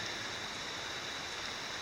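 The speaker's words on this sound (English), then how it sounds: "I'd call it a little heavier than a drizzle" Light rain, a little heavier than a drizzle, falls on a forest hiking trail near Olmstead Pond, a steady, even hiss of fine drops with no voices.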